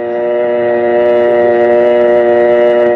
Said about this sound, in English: Listen for the dial tone